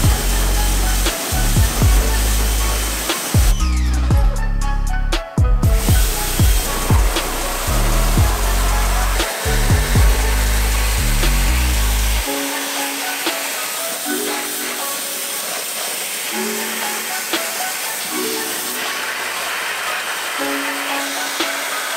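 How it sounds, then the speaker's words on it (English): A pressure washer sprays an alligator skull and its lower jaw while it is cleaned for a European mount. The loud, continuous rushing hiss runs throughout, and its tone shifts partway through. "we're gonna go ahead and use the pressure washer"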